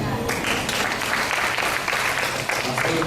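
An audience in a Bible-institute class in Natal claps for several seconds, a dense and fairly loud burst of applause that continues throughout with faint voices underneath.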